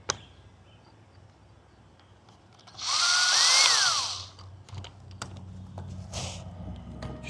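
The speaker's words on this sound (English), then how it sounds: "So I'm gonna drill straight down," A power drill bores straight down into cracked plastic car interior trim, a single loud whirring burst of about a second standing out over quiet room noise, followed by faint handling clicks.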